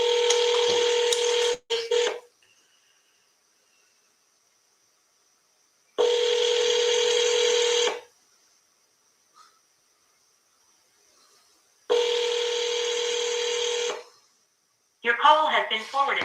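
Telephone dialing and ringback tones sound while a call is placed to a seller: two-second bursts of steady tone separated by silence, repeating three times, with a brief sputter of other sound at the end.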